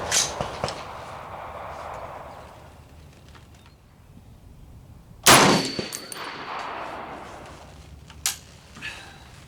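A Springfield Armory rifle fired at an outdoor range: one loud, sharp crack with a ringing tail near the middle, a few fainter clanks and thumps around it, and quiet gaps in between.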